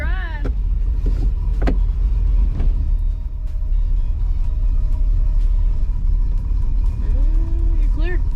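A 1965 Corvette's engine rumbles steadily and loudly at close range on its first drive, with a few brief voiced calls over the constant low drone.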